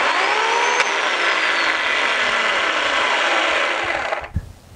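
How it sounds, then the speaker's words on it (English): Close, loud electric chainsaw motor whining steadily for about four seconds, pitch sagging slightly, then cutting off abruptly and winding down into quiet, with no speech. "I go to this electric chainsaw often before I go to my gas-powered one"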